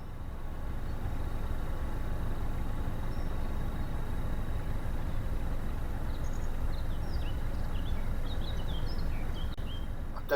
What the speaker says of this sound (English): I do love the sound of them old diesel engines.